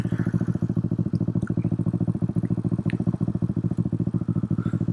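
A Honda CB450 motorcycle engine runs steadily at a fast, even idle, a close and loud rhythmic chug with a slight mechanical clatter, alone without talk.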